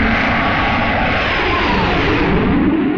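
A loud, continuous roar of a helicopter flying overhead hums without letup, broad and rumbling throughout.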